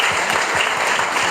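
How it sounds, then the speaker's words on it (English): Audience applause fills a conference room after a sales talk, a dense, steady clapping that holds at full strength throughout without fading. "Yeah, round of applause."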